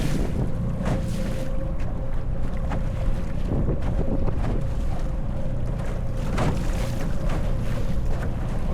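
Steady wind buffets a small boat on Lake Tawakoni in Texas, a continuous rushing roar with gusty microphone noise and a low motor drone throughout, with water sloshing against the hull and no voices.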